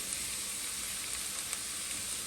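Onions sizzle steadily in a pot for seafood bisque, a bright even frying hiss with faint crackles as they are stirred, close and unbroken, with no talking.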